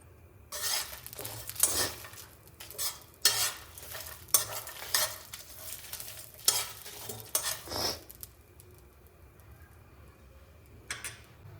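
Grated coconut being dry-roasted in a pan for a badnekai ennegai recipe, with a spatula scraping and stirring in repeated bursts under a faint sizzle, then pausing into quieter stretches with a few last strokes.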